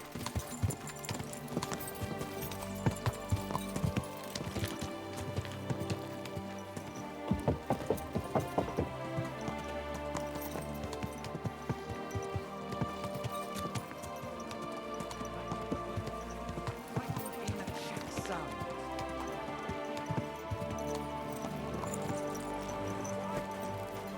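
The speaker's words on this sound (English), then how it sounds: "Especially when I'm riding a horse and moving fast." Horse hooves clop in a quick, steady galloping rhythm across open plains in the video game Kingdom Come II, moderately loud with busy game ambience layered underneath.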